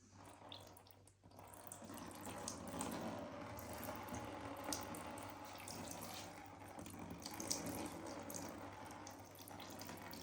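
Water poured gently over a head being washed after a hair transplant, a quiet, steady trickle and splash running continuously with soft fluctuations, faint and close, no talking.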